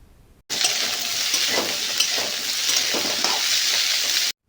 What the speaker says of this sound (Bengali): দিয়ে আবারও সবজিগুলোকে একসঙ্গে ভাজতে হবে